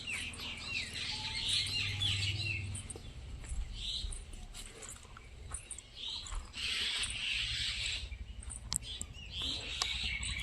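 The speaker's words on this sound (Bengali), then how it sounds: "চলে এলাম পাখিদের কলরব শুনতে" Birds chirp and twitter steadily in the open, several high calls overlapping against faint outdoor background noise.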